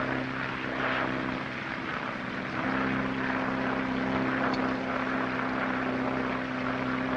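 Steady drone of a 1937 transatlantic flight's airplane engine, likely a propeller aircraft, holding a constant low hum with a sustained tone throughout, no voices.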